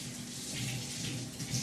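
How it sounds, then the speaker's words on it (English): Water trickles softly into a bowl of three eggs being prepared for breakfast burritos, a faint, steady pour with no other sounds. "So I just am gonna put a little bit of water in there."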